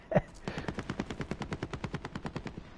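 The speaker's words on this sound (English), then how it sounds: "So we can hear gunfire." Far-off automatic gunfire in the Warzone battle royale, a single sharp shot followed by a long, evenly spaced rapid burst of rounds, fairly faint and distant.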